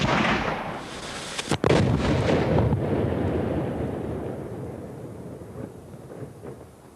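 A 19th-century muzzle-loading cannon fires outdoors with one sharp boom, followed by a long rumbling roll that slowly fades away, and no voices.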